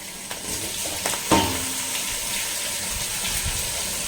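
Onions and tomatoes sautéing in oil for a mushroom gravy make a soft, steady sizzle, with a brief clatter of something added near the start, heard alone and at moderate distance.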